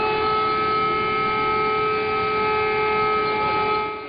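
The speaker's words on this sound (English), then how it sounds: "The sirens have just started here in the capital, Kyiv." A steady air raid siren wails continuously over the city of Kyiv, a sustained droning tone that carries as if from a distance, fading slightly at the end.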